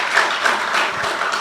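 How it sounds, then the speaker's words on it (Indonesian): Church congregation clapping together in a brief, steady burst of applause during a worship service. "Beri tepuk tangan dulu buat Tuhan Yesus"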